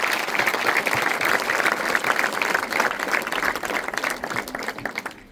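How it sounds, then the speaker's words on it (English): A crowd at a school welcoming general assembly at Kevin College Mabira claps steadily for the CEO, giving dense, sustained applause for about five seconds that fades slightly toward the end. "A round of applause to him."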